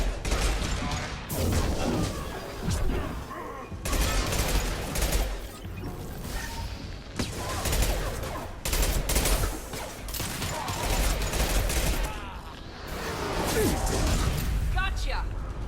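Heavy gunfire in the Mass Effect 2 video game: loud, dense bursts of automatic fire and blasts crackle in waves with brief lulls, while voices speak over the combat.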